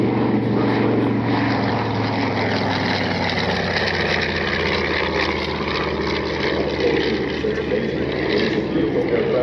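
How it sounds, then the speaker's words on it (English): Steady, loud drone of a propeller airplane at an airshow, a vintage aircraft once used as a wind machine for testing walls and windows, holding constant throughout with no clear change in distance. "It's a nice flying airplane."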